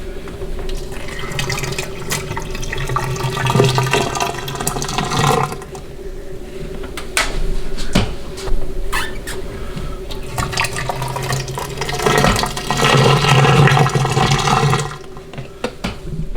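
Water poured into a household drain during an arctic freeze in a flooded house gurgles and trickles away, a steady close splashing wash that swells and fades over several seconds with no talking.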